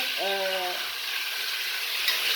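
Venison simmering gently in a pot with vegetables, a steady soft bubbling hiss that continues throughout, with a short tonal clink near the start.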